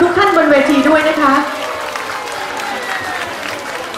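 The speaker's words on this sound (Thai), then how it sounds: "ขอเสียงปรบมืออีกครั้งให้กับทุกท่านบนเวทีด้วยนะคะ" Audience applause for performers and celebrities on stage at a Thai Red Cross opening event, a mid-volume crowd clapping that starts strong with a voice and music-like tones on top, then settles into steadier, softer clapping.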